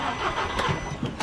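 An Audi TT engine cranks over in an engine bay, a short burst of mechanical churning and starter-motor effort with a couple of sharper pulses, heard close and fairly loud with no talking.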